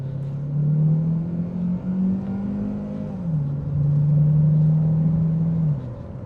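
A high-mileage Ford Focus accelerates hard on a road test, its engine note droning and climbing steadily, dipping briefly at a gear change and then pulling again before easing off; loud and close, no talk.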